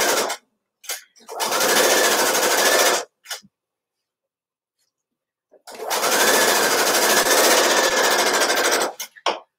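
A sewing machine stitches a garment's front seam at a quarter-inch seam allowance, running in two steady, loud bursts of about two and three seconds, with short clicks and a pause between them.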